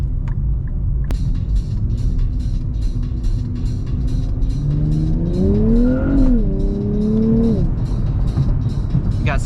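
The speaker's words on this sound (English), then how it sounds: "Got some tire spin right there." A modified Nissan Z spins its tires on a very smooth road, a loud engine rumble rising in pitch as it revs, with faint repeated ticking layered over the steady drone.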